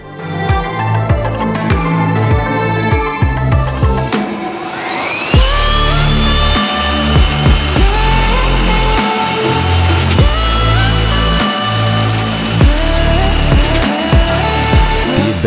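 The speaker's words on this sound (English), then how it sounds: "You can drill a hole quickly and easily." A Rothenberger DX dry drill bit bores a hole with a loud, continuous power drill drone that rises briefly in pitch and keeps grinding steadily, close up with no talk.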